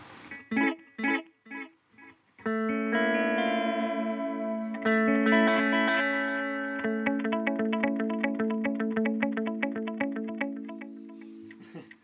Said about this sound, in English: now that's the longest delay time now, so you're on the third delay head